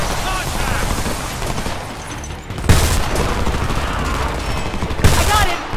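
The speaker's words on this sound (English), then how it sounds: "Taking heavy fire!" Heavy gunfire in the shooter game Homefront comes as dense, close rattling bursts, with sharp loud blasts about two and a half and five seconds in, while voices shout over the fighting.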